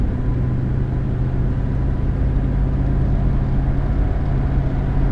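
A 1974 Imperial rolls along with a steady, low engine rumble and road drone, heard from inside the cabin, continuous and fairly loud without any talk.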